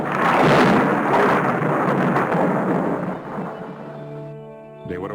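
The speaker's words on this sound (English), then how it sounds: "were awakened by the noise of an electric storm" Thunder from an electric storm at sea rolls and rumbles loudly for several seconds, a broad heavy roar that slowly fades before a brief new sound cuts in at the very end.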